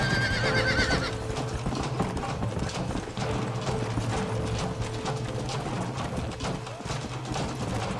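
Steady clip-clop of hooves with a horse's whinny near the start, over mechanical rattling and background noise, in the video game Red Dead Redemption.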